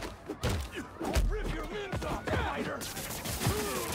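Gunfire in the Spider-Man 2 video game: a volley of heavy, thudding shots in irregular bursts, mixed with game voices and effects throughout.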